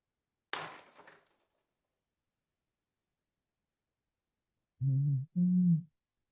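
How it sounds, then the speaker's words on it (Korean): A wine glass breaking: a short sharp shatter with a tinkling tail near the start, then silence, followed by two brief tonal electronic beeps. "요거는 와인잔 깨지는 소리예요. 조금 작게 들리긴 했는데, 유리 깨지는 소리."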